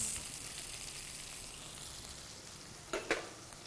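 Carrots, beans and other vegetables sauté with small onions in a pan for sambar, producing a faint, even sizzle and two brief stirring clicks near the end, with no talking.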